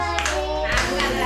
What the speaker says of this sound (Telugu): ఇంకా క్లాప్.